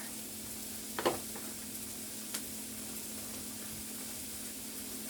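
Cabbage simmering and melting down in a pan gives a faint, steady sizzle under a low hum, with a couple of brief stirring clinks.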